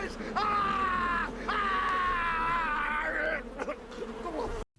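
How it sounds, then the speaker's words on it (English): A computer-generated bee swarm in the film The Wicker Man hums as a steady, high, wavering drone, broken twice briefly and then fading, while a man screams and cries out over it. "These CGI bees are terrible."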